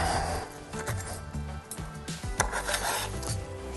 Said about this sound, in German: Dann schneiden wir den Knochen entlang das runter.